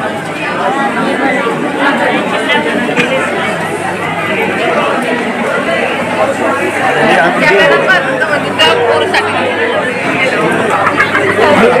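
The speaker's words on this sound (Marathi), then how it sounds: "तर तुम्ही पाहू शकता किती गर्दी आहे इकडे" Dense crowd chatter and babble fill the entrance of Bhimashankar Jyotirlinga temple, a steady wash of many overlapping voices close around without pause.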